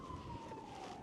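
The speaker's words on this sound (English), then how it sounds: "you can hear the sirens of New York City" A distant New York City siren wails faintly over a steady background hum of city noise in Queens.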